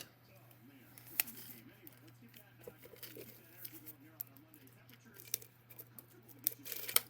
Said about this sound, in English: Now, I got to trim this right here.